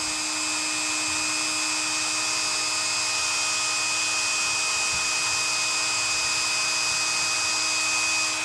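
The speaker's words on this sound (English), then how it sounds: "other areas that you can touch up with the wire brush if it fits in there" A wire brush, apparently motor-driven, scrubs a CAMCO 229 electrician's knife with a steady, close, high tonal whine that holds unbroken throughout, with no talking.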